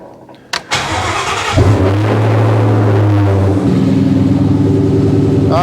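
A Ford Mustang GT100 engine, the 2016 Mustang chassis under a Ford F100 unibody, starts with a short crank that catches into a loud, steady, close-up idle. The rumble shifts slightly in pitch toward the end.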